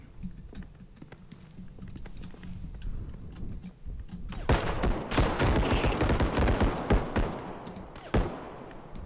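Bursts of rapid gunfire crack and thud through a first-person shooter match in Bodycam's zombie mode, starting sparse then turning dense and loud midway, with keyboard clicks in the background.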